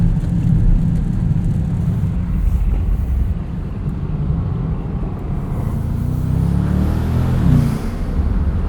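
A 2023 Bentley Continental GTC Azure V8 roars steadily at speed, with a deep rumble and a rising rev near the end.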